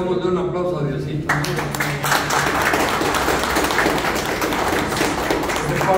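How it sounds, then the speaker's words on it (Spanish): An audience bursts into applause after a brief spoken moment, and the clapping continues loudly and evenly to the end. "démosle un aplauso a Diosito"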